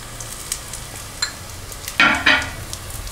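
Banana pieces sautéing with two tablespoons of sugar in coconut oil, a faint sizzle broken by a few light utensil taps and two louder scraping stirs near the end.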